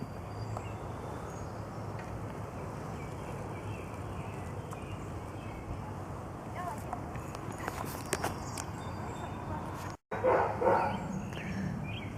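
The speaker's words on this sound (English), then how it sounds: "my darn dog is up barking" Outdoors in a summer vegetable garden of tomatoes, peppers and broccoli, a dog barks a few times, brief and somewhat distant, over steady background noise. A louder burst comes near the end.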